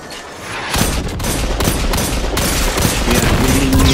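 Rapid, heavy hand cannon gunfire in Destiny 2 Iron Banner, dense overlapping shots with booming impacts, loud and continuous for several seconds.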